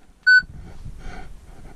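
A single short electronic beep from a car radio in a Citroen C4 Picasso or Peugeot, followed by low rustling and faint handling noise.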